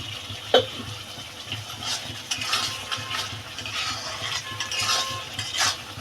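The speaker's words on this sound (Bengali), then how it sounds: "যতক্ষণ পর্যন্ত তেল না ছাড়বে ততক্ষণ পর্যন্ত আমি মশলাটা কষাতে থাকবো" Spiced masala for a hill-style rajma curry fries and is stirred in a pan, with a soft steady sizzle, scraping of a spoon and a few sharper clinks, close and fairly quiet with no talking.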